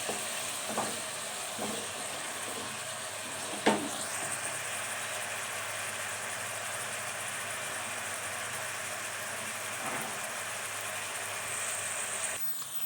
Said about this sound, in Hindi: प्याज को हम अच्छे से सौते कर लेंगे